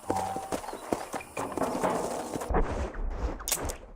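A horse trots in the Western game Red Dead Redemption, its hooves clip-clopping in a steady quick rhythm, close and clear, with faint ambient outdoor sounds behind.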